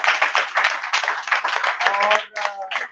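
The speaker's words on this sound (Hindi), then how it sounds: "तो एक बार इस टीम के लिए वो जोरदार तालियां।" Audience clapping for a team at a Renaissance Institute of Hotel Management event, steady dense applause with a voice speaking over the end.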